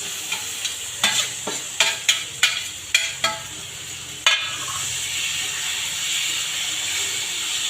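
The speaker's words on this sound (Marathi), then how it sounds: "व्यवस्थित परतून घ्यायची व्यवस्थित एकजीव झाली पाहिजे" Steamed shark fish is stirred with onion in a pan, with a series of sharp scraping clacks from a spoon in the first few seconds, then one louder knock and a steady sizzle that carries on alone.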